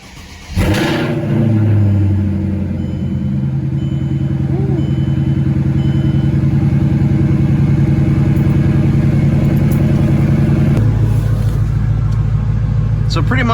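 A Mercedes CLK500 W209 pulls away on a test drive, its V8 engine rumbling loud and steady close by, with a low drone that deepens and shifts near the end.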